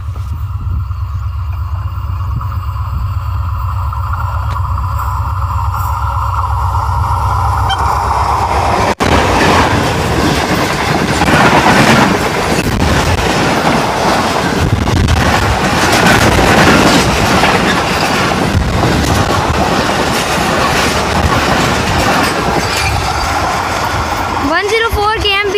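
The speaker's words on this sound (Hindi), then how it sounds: "16 डाउन कराची एक्सप्रेस अप्रोच कर रही है HGMU 30R लोकोमोटिव के साथ" A 16 Down Karachi Express passenger train hauled by an HGMU-30R diesel locomotive passes close by at an abandoned station in scorching heat, its loud rumble and steady clickety-clack of wheels building and lasting throughout, with a voice talking over it.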